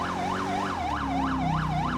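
Police car siren in the FiveM game, a loud, steady wailing yelp that rises and falls in a regular rapid cycle, with an engine hum underneath.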